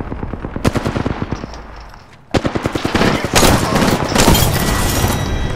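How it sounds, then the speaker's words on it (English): Rapid automatic gunfire in the battle royale game Apex Legends, a loud close stream of shots that pauses briefly and resumes, thickening into a dense sustained barrage. "Opening fire."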